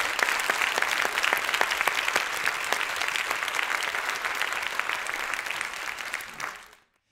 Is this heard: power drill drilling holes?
no